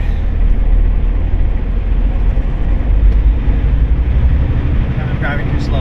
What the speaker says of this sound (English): Boarding our ferry.